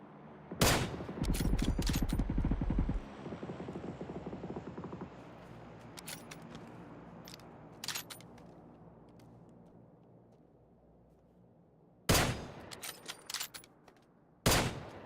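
Bursts of rapid PUBG video game gunfire crack out in short volleys, loud and close, with quieter stretches of low rumbling and scattered single shots between them.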